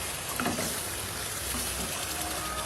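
Poa fish head fries in spices while being stirred by hand, giving a continuous close sizzle with soft bursts of spattering and light stirring movement.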